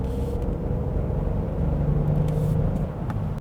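A 2022 Genesis GV70 SUV is driven along a road through corners, heard from inside as a steady, close low engine and road rumble with a faint tonal whine and no talking.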